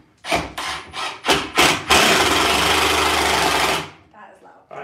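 Power drill driving screws into wood while building a bench from old chairs, heard as several short whirring bursts followed by one long loud sustained drive, close by, with faint voices afterward.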